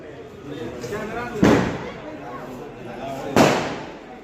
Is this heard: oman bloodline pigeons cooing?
no